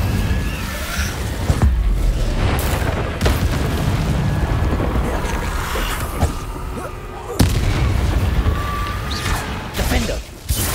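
Incendio fire spell blasts in Hogwarts Legacy combat, repeated loud booming bursts every couple of seconds amid continuous battle noise, with spoken voices over the fighting.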